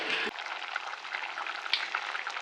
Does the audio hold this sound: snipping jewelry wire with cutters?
no